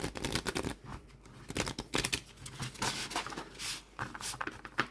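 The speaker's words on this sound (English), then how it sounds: "So we'll just see how this shuffles. This is a bigger deck, so it's a little bit more difficult to shuffle." A large oracle card deck is overhand-shuffled by hand, giving repeated soft papery flutters and slaps in irregular bursts, close and fairly quiet, with no talk.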